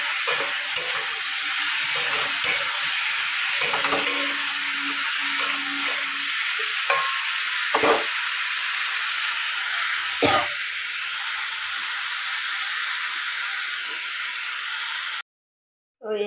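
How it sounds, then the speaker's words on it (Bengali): Fish curry masala with tomato stir-fried uncovered in a pan, a continuous close sizzling hiss broken by several scraping stirs with a spatula, ending in a brief cut to silence, no talking. "এইভাবে ঢাকা না দিয়ে কষতে থাকবো ঢাকা দেবো না"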